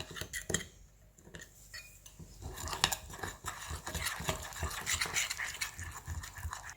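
A spoon stirs spices and a tablespoon of flour together in a bowl, mixing a peri peri chicken marinade paste: a steady, close, scraping and clinking of metal against the bowl, with no voices.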